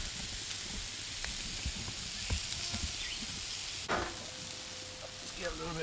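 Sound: potatoes sizzling and popping while frying

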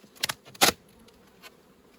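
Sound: honeybees buzzing in a hive

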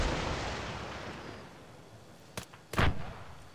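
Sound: AT-4 rocket launcher shot in video game ArmA 3

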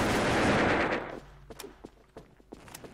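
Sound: gunfire in the video game Wolfteam

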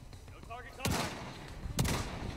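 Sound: gunshot in video game The Division 2

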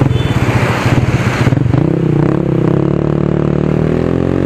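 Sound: motorcycle engine

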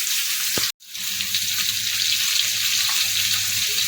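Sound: pumpkin and shrimp frying in a pan

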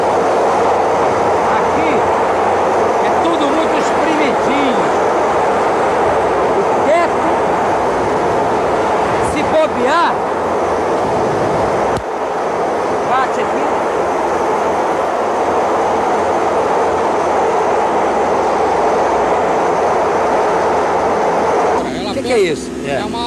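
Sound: São Paulo metro maintenance vehicle running on the track

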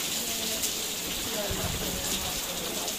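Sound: heavy rain falling

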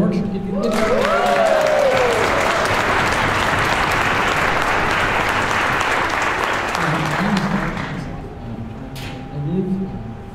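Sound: audience applause at an orchestra concert

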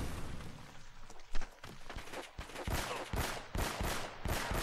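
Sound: gunshots in the video game Uncharted: Drake's Fortune

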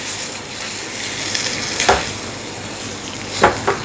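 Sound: stirring grated sweet potato into jaggery syrup

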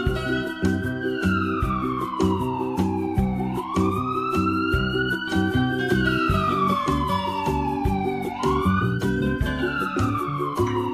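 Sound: ambulance siren

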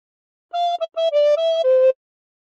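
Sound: recorder playing Bella Ciao phrase

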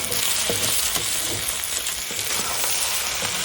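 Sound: stir-frying spicy field rat with crispy pork

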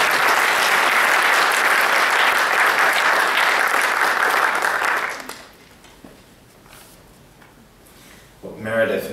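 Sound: audience applause welcoming a lecturer

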